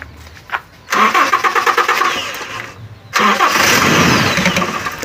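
A Toyota Kijang engine cranks and catches, runs briefly, cuts out for a moment and then starts again, loud and close.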